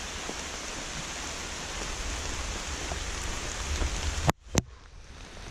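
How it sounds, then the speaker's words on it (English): Steady rain patters continuously at close range on a Great Smoky Mountains trail, a dense even hiss with scattered drop hits, briefly cut by a couple of sharp knocks near the end. "Looks like we're gonna get a little rain this afternoon."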